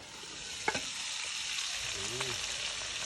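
Pork belly fries in a pan for a shrimp-paste stir-fry, a steady close sizzle with a couple of sharp spatter pops. A voice speaks briefly over it.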